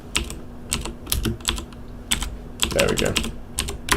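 Brisk keyboard typing on a computer, a close burst of clacking keystrokes with short pauses between clusters, while a person speaks briefly over it.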